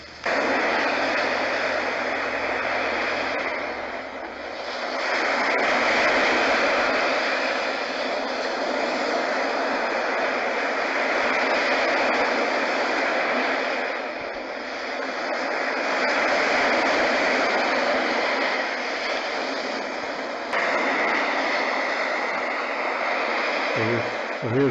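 A white noise and nature sound machine plays its ocean setting, a continuous hiss of surf that swells and recedes in slow, regular waves.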